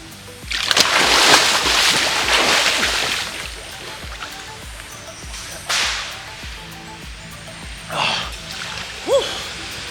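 Splashing in a cold creek about 1.5 meters deep as someone swims, bursts of close water churning and sloshing that fade to quieter ripples, with short exclamations.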